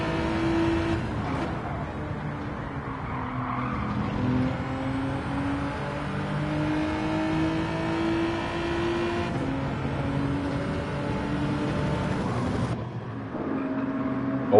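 Engine of a Nezzo Racing Genesis G70 Group 4 race car in Gran Turismo 7, a steady loud drone with shifting pitch as it runs close behind another car, continuous throughout with brief gear-change dips.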